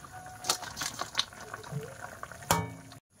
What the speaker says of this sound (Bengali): এই যে দেখো তরকারিটা কিন্তু ফুটে উঠেছে একদম